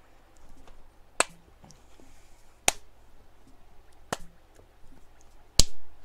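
One person claps their hands to keep rhythm while playing, five sharp, isolated claps spaced about a second and a half apart over a quiet background, each a crisp, close snap with no talking.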